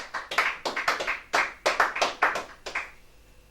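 A church congregation claps in acclaim, a burst of sharp, fairly close handclaps in an uneven rhythm that fades to a few scattered claps before stopping.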